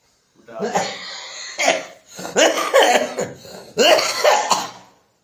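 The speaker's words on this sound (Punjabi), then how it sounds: "ਲੋ ਯਾਰ ਮੈਨੂੰ ਖੰਘ ਆ ਗਈ" A person coughs several times in close, harsh bursts, with brief pauses between fits.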